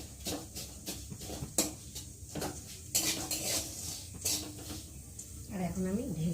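A pan of crisp-fried Maggi noodles takes a series of sharp scrapes and clinks from a metal spatula, irregular knocks against the pan over a soft background hiss, with a voice speaking briefly near the end.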